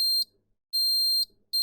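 A multimeter continuity tester on a short circuit in an iPhone XR gives three sharp, high electronic beeps, each about half a second long with short silent gaps, close and clear.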